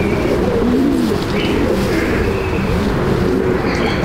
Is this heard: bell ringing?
no